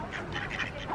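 A duck gives a short run of soft, faint quacks close by, heard alone without talk.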